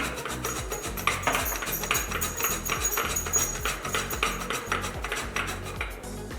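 Fresh ginger is rubbed across a grater in quick, repeated scraping strokes, each stroke a short rasp in a steady rhythm, close and moderately loud.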